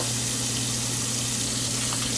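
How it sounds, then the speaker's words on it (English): Fresh cold water runs from a tap into a container of rinsed, peeled potatoes, a steady continuous gushing pour heard up close and alone. "now I'm just going to add fresh cold water to them"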